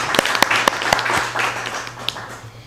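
An audience at a virtual academic conference applauds to welcome a keynote speaker: a brief burst of mixed claps that thins out over a low steady hum, fairly close.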